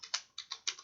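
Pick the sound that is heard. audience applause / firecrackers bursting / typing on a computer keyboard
typing on a computer keyboard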